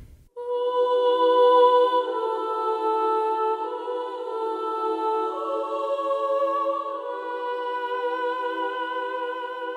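Sustained wordless 'ooh' choir from a Hollywood Choirs patch layered with a Voices of Opera choir, holding a rich, full chord that swells in early and stays loud and steady throughout, with no talking.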